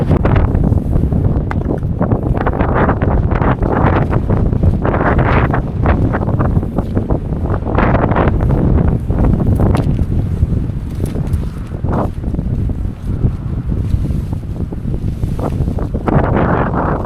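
Strong gusty wind roars outdoors at a wild campsite, buffeting the microphone in heavy, rumbling waves that swell and ease for the whole stretch.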